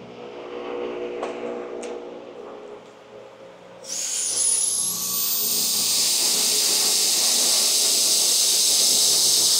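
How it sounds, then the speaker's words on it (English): A small air compressor turns on partway through and blows a loud, steady hiss of air that runs to the end, close by while an RC FPV plane is being built. "Little air compressor."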